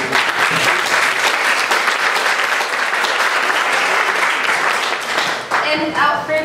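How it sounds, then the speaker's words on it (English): An audience at a school drama and dance performance claps in a dense, steady round of applause for several seconds, loud and close, tapering near the end. "let's give them a quick round of applause"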